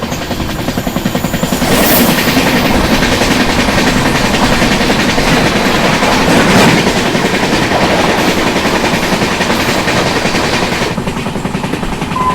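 The 12278 Hubli Express from Thiruvananthapuram rushes past at a crossing, a loud, close, continuous roar with rapid rhythmic clatter of wheels over rail joints that holds for about ten seconds before easing.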